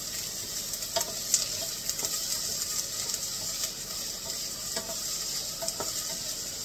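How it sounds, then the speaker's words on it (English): Small-cut onions frying and sizzling in a pan, stirred now and then, giving a steady close hiss with soft scraping clicks from the utensil, no talking. "I'm just going to stir this until the onions have softened."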